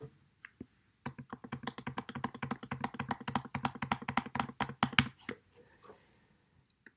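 Card details being typed on a computer keyboard: a quick, close run of crisp key taps in an uneven rhythm, fairly quiet, with a few scattered taps before and after the main burst and no talking.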